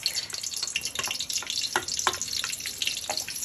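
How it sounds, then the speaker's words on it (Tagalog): Garlic sizzles in hot oil in a pan, a steady crackling fry broken by the scrape and clatter of stirring, close and moderately loud with no talking. "Ilagay ang bawang ng dahan-dahan at ihalo."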